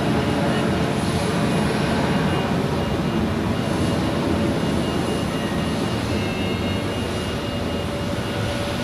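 An Airbus A321 jet roars through its takeoff run at Zurich Airport, a loud, sustained engine rumble and whine that holds steady for several seconds.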